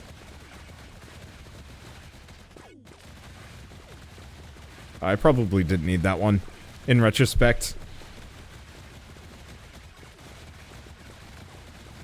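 Two short, loud clusters of rapid shots from the moon-defense bullet-heaven game Stelloop rise out of a quiet background, about a second apart, with someone talking nearby.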